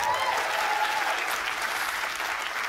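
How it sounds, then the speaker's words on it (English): A live comedy crowd at an Edinburgh Fringe show applauds for a performer named Emily, with dense, steady, loud clapping filling the whole moment without a break. "round of applause for Emily"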